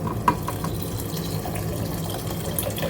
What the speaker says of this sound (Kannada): ಇವಾಗ ನೀರು ಹಾಕೋದು